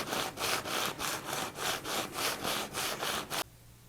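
Steady back-and-forth rubbing strokes, about thirteen rhythmic passes of a sanding block on a guitar's metal fret ends and wooden neck, close and alone, stopping abruptly near the end.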